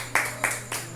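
Church congregation clapping, three distinct sharp claps spaced about a third of a second apart over a low steady hum, fairly close and isolated.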